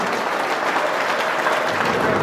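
Audience standing and applauding at a Republic Day celebration gathering in Riyadh, Saudi Arabia: dense, steady clapping from a large crowd, loud and continuous throughout with no pauses.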